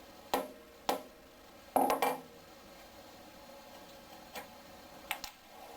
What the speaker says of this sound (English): And I will put it in the hole and tap it.